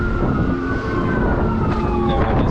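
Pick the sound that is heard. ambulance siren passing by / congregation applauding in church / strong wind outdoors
ambulance siren passing by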